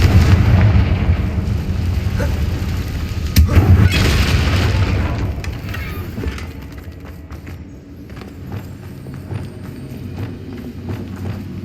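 A Confringo fire spell goes off with a loud boom in the video game Hogwarts Legacy, a heavy blast near the start followed by rumbling debris that slowly fades.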